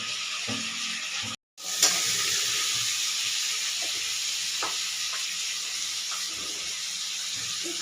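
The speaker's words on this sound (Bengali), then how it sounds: "এবার একটু জল দিয়ে দেবো" Masala sizzles and hisses in a hot pan as water goes into a Bengali curry of rohu fish and prawns; a steady frying hiss runs throughout, with a brief gap and a sharp splash burst near the start, no talk.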